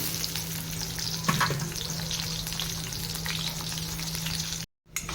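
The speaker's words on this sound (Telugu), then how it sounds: "ఇప్పుడు ఉల్లిపాయలు వేసేస్తున్నా." Onions frying in oil with mint for a chicken curry make a strong, even sizzle, with a brief stir-clatter early on and a sudden short dropout near the end; no talking.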